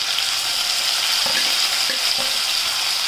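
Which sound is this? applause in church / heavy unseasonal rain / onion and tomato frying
onion and tomato frying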